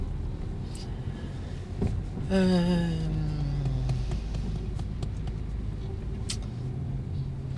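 A car accelerates during a driving lesson on an exam-style route, its engine note rising in a clear upward sweep over steady road rumble, without speech.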